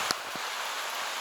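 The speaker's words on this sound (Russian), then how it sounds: "Пошел дождик, в общем." Light rain beginning to fall outdoors near the Lena Pillars in Yakutia, heard as a soft, steady hiss of drops with a couple of brief louder taps early on, with no voices.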